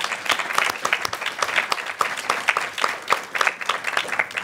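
Audience applause at a county school board meeting, steady dense clapping from a room of people, moderately loud and sustained without talk.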